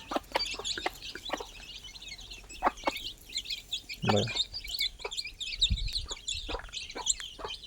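Free-range country hens and young chicks about fifteen to twenty days old cluck and peep repeatedly near a wire mesh enclosure, with a few brief knocks and a short spoken word.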